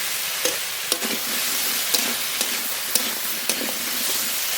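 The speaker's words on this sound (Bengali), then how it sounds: "একটু নেড়ে নিয়েছি" Cumin and green chili paste sizzling in a pan while being stirred, a continuous hiss of frying broken by regular sharp scrapes of the spoon roughly every half second.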